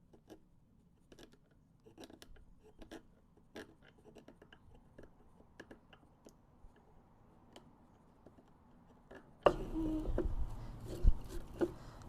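Hand-held chisel chopping into a wooden mug blank during home kit carving, used in place of a hatchet: a quiet series of sharp, irregular knocks, followed by a louder, rougher stretch of chopping and scraping near the end.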